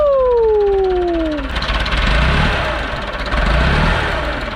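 Engine of an old 1980s Lull all-terrain forklift revving under throttle, a loud steady broadband roar with rising and falling surges, a high whining tone sliding downward early on.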